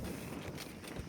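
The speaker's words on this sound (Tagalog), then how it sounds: "Tingnan niyo kung gaano kalakas yung hangin." Strong wind on a mountainside at a camp near a tent, a steady roaring rush of buffeting gusts close against the microphone, with no voices heard.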